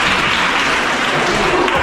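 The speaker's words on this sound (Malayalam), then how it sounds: "സാറിന് ഒരു താങ്ക്സ് പറഞ്ഞിട്ട് കൈയടിച്ച്" Students at a freshers' day magic show at Mount Zion Law College in Pathanamthitta, Kerala clap to thank the teacher, a full, steady burst of crowd applause filling the room.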